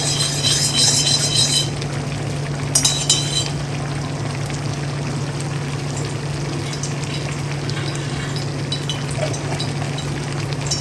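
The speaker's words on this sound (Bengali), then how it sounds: "আলাদা একটা কড়াইতে এবার আমি একটু ঘি নিয়ে নেব।" A spoonful of ghee heats in a separate kadai on the stove, giving a steady close sizzle under a constant hum, with a few bright metallic clinks near the start.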